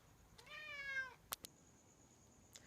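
A cat gives one clear rising-and-falling meow, close but fairly soft, followed by a couple of sharp clicks in an otherwise quiet room.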